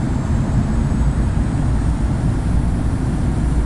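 Jet2 airliner's engines in Infinite Flight roar steadily at takeoff power on the runway, a constant low rumble with a faint high whine, loud and unbroken with no talk.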